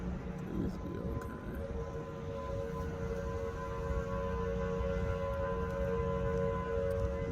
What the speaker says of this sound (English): But that sound gotta be the sirens, right?